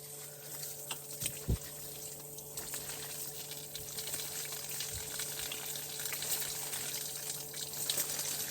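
A steady, fairly quiet hiss of water sprays from an InstaShower portable hot-water camp shower, continuous throughout with a couple of faint clicks.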